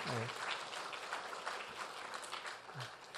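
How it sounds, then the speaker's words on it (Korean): Steady applause from a church congregation fills the room for a few seconds during a Sunday service, with a faint voice breaking through briefly. "여러분이 박수로 한번 격려해 주시면 좋겠습니다"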